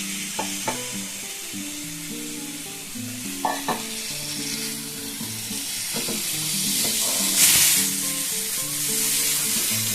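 Pre-fried potatoes being stirred into a spice mix in a hot pan for aloo dum, with a continuous close sizzle and frying hiss, broken by repeated scraping stir strokes and a brief louder burst of steam late on.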